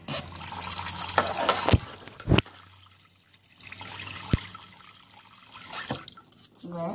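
Dental instruments being rinsed under running tap water, with a splashing, trickling flow broken by several sharp metallic clinks and knocks, while a person talks in Spanish.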